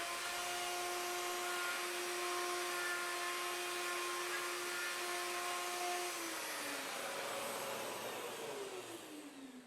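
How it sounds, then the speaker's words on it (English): A power tool cuts a mortise into the top of a wooden table leg, a loud steady whine with a constant tone that drops in pitch near the end as the tool winds down. "Now I'm cutting the mortise in the top of the leg where the bevel was just cut."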